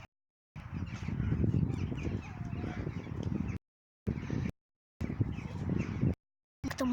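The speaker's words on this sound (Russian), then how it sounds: "Вон как много птиц" A large flock of birds with crows cawing, a dense, loud, continuous chatter of calls broken by several short silent gaps.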